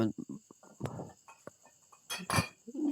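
Chickens cluck in the Minecraft video game: a series of short, close clucks and bursts over a steady background tone, building to a louder squawk near the end.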